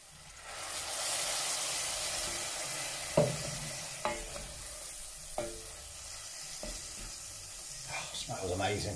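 Mustard seeds frying in about 60 ml of hot oil for Bombay potato and aloo gobi: a steady close sizzle with sharp individual pops breaking through every second or so, several crackling together near the end.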